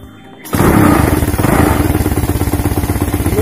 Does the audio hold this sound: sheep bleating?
no